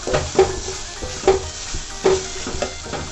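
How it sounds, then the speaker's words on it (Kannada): Grated carrots fry in ghee over a low flame with a soft, steady sizzle, and a spoon scrapes and stirs the pan about once a second, close up. "ಇದು ಉರಿ ಸ್ವಲ್ಪ ಚಿಕ್ಕಕ್ಕಿರಬೇಕು, ಅದೇ ಉರಿಲೇ ನಾವು ಫ್ರೈ ಮಾಡಬೇಕು"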